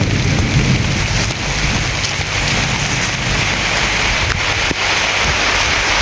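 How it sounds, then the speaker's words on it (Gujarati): Steady rain pours down in a village setting, a dense continuous wash of drops on surfaces that stays loud and even throughout with no voices. "તો કાંઈ વરસાદ આવે"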